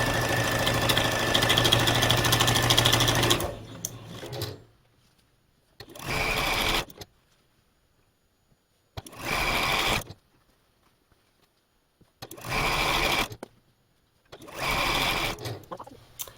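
A sewing machine pieces quilt blocks for a snowman quilt. It opens with a long, steady run of rapid needle chatter, then stitches in several short bursts separated by quiet gaps.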